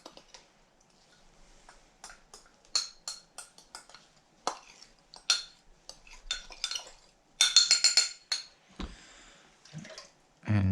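A spoon stirs cornstarch into hot liquid in a crock pot, making a series of sharp clinks and taps at an uneven rhythm, with quiet gaps between bursts.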